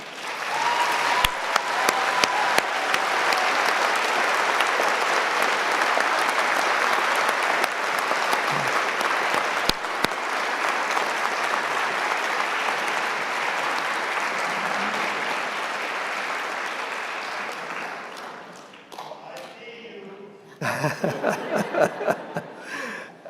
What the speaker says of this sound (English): Graduates, a round of applause, please.